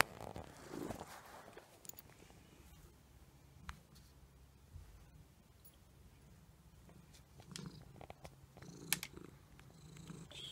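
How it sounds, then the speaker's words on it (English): A cat purrs close by in a soft continuous rumble, joined by zipper-like rustles and scattered handling clicks, with no talking. "She's purring right now."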